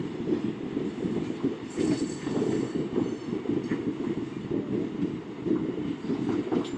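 A train crosses the Cape Cod Canal railroad bridge at Buzzards Bay, a steady rumbling roll of railcars with faint wheel clatter and an occasional high squeal, continuous throughout at moderate distance, no talk.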